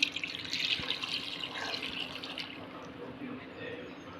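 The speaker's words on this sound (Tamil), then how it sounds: "ஒரு குக்கர் எடுத்துகிட்டு ஆட்டுக்கால் போட்டுக்கலாம். அது போட்டு 3 டம்ளர் நம்ம தண்ணி ஊற்றிக்கலாம்." Water poured into a pressure cooker holding goat trotters for a Tamil paya recipe, a close steady splashing pour that tapers off toward the end, with faint kitchen background.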